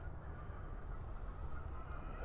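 Geese give several faint, distant honks, scattered calls rising over a steady low outdoor rumble.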